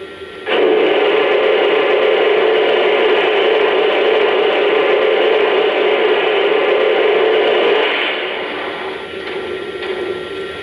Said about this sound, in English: Here's the sound of the steam blowdown effect.